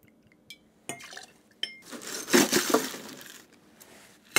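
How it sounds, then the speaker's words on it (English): Ice dropping into a cocktail mixing glass for a 1950s Futurity cocktail with sloe gin and vermouth: sparse hard clinks at first, then a louder, denser rattle of cubes tumbling and settling, close by with no talk. "ice the mixing glass."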